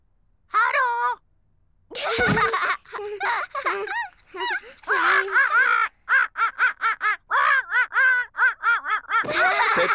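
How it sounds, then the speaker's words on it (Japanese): A cartoon parrot in a Japanese-dubbed Peppa Pig episode squawks in a quick string of loud, bright, rasping calls, with short pauses between bursts and a run of rhythmic squawks toward the end. "ペッパとジョージはオウムのポリーと遊ぶのが楽しくて仕方ありません"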